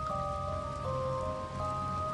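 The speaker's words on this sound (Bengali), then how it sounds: "অপেক্ষা করছিলাম বৃষ্টিটা যদি একটু কমে" Steady rain falls with a soft, even hiss, while a constant tonal hum runs underneath throughout.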